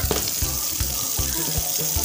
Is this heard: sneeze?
no